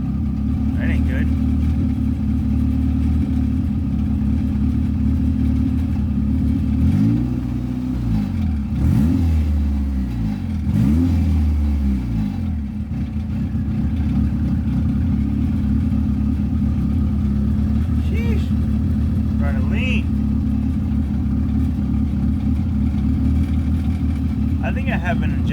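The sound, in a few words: turbo Honda Accord F23 engine idling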